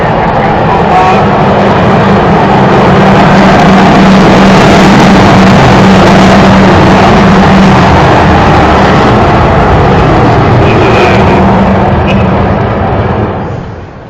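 Avro Vulcan jet bomber engines roar loud and steady on its final flight, a sustained broad rumble that begins to fade away toward the end.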